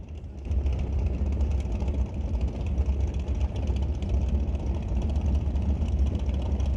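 A white dragster's engine idles at Mission Raceway during Super Pro eliminations, a loud, steady low rumble that holds without a break from start to finish.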